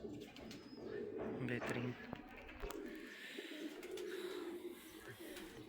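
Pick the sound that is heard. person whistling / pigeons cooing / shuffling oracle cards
pigeons cooing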